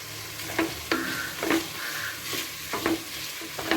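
Coriander leaves, mint and green chillies sautéing in a pan for nombu kanji, a steady close sizzle broken by sharp spatula knocks and scrapes roughly every half second as the greens are stirred.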